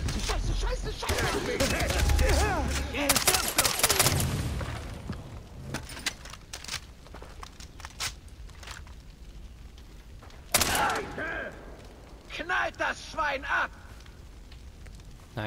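Bursts of gunfire from the video game Far Cry 3 crackle in loud clusters, with sharp isolated shots later, under and between people talking.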